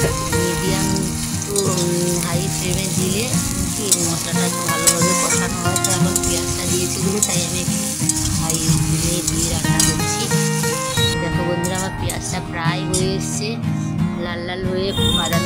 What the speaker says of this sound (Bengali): তো এখন পেঁয়াজগুলো কষা হচ্ছে, তো তার জন্য আমি একটু আঁচটাকে বাড়িয়ে রেখেছি।